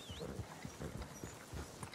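Rhythmic hoofbeats of a horse in Red Dead Redemption 2 clip-clop at a steady walking pace, fairly close and moderately loud, with no voices.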